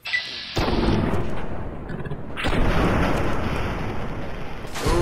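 Gunfire in Fallout: New Vegas, with three heavy booming shots spaced a couple of seconds apart, each trailing into a rumbling echo, loud and with no voices.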